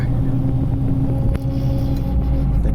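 A car drives along a road in Cambodia, its engine and tyres making a steady, close rumble with one brief knock midway.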